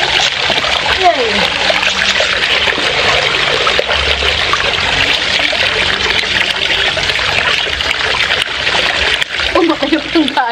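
Water splashes and trickles steadily as newly arrived plants with exposed roots are soaked in a fungicide solution, a continuous close sloshing with occasional voices in the background.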